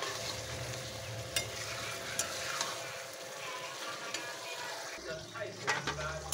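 Chicken pieces sauté in a hot pan with a steady sizzle and soft stirring scrapes, fairly quiet and close, with a low hum underneath and no speech.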